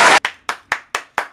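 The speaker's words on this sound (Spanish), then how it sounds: "Un aplauso para el pelado." Hands clap in a short burst, followed by about five crisp, evenly spaced claps in a steady rhythm, close and fairly loud with no talking.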